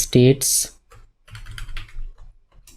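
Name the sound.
typing code on a computer keyboard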